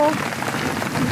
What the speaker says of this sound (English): Squalls are mini storms that are common in the tropics. They usually bring wind, rain, and occasionally lightning too.